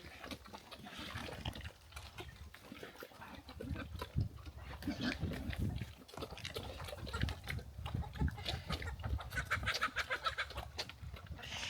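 Pigs on an off-grid Alaskan homestead smacking, chomping and chewing food, a busy, continuous wet munching mixed with grunts and nearby clucking fowl, close and fairly loud.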